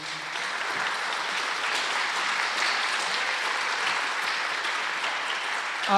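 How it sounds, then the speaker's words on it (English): An audience at a high school spring band concert gives a round of applause, steady, even clapping throughout at moderate level. "Can you give all of those people a round of applause, please?"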